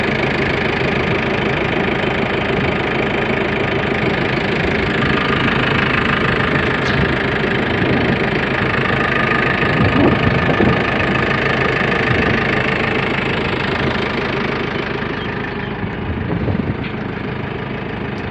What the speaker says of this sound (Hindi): इसका इंजन का साउंड चेक करें।